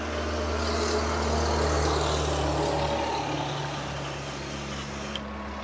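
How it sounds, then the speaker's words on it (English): Constant traffic roar from a nearby highway, a broad steady rush with low engine drone that swells and slowly fades. "Sorry for the noise, we're right by the highway here."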